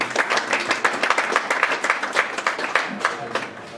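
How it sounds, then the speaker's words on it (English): An audience claps steadily in a hall to thank Riva University, a dense patter of many hands that stays even throughout with no talking over it. "Can we clap for the Riva University?"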